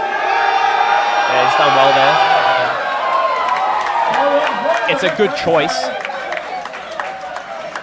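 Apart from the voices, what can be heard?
crowd cheering and whooping at a powerlifting competition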